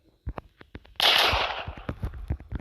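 Gunshot in the Roblox Brookhaven video game: a sudden loud blast with a noisy burst that fades over about a second, set among short repeated clicks and taps.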